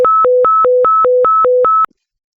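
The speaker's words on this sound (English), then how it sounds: "Fire call." A fire-call dispatch alert in a roleplay dispatch system: a loud electronic hi-lo tone alternates rapidly between two pitches about ten times in under two seconds, then stops into silence.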